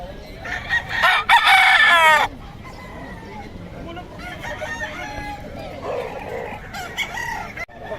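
A farm rooster crows loudly once near the start, followed by softer clucking and farmyard bird calls with faint voices in the background.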